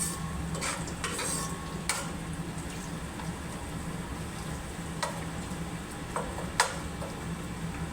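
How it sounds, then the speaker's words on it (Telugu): Onions frying in a pan for chicken biryani are stirred with a utensil that scrapes and clinks against the metal now and then, over a soft, steady sizzle. "ఉల్లిగడ్డలు ఈ కలర్ వచ్చేలాగా వేగించాలి"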